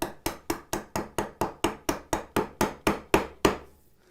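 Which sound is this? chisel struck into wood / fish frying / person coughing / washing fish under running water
chisel struck into wood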